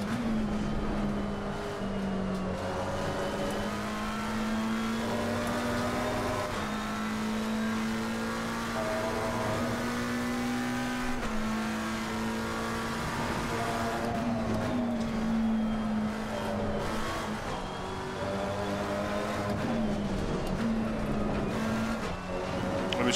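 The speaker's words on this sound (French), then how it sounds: "c'est la Porsche qui est passée" A Porsche race car in the Assetto Corsa Competizione racing game sweeps past with a loud, steady engine note that rises and falls in pitch over about twenty seconds, close and continuous, with no voices.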